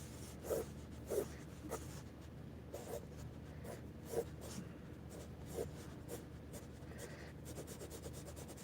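Soft graphite strokes of a Kohl Erase pencil sketching on paper, a series of light scratchy rubs in an uneven rhythm, quiet and close.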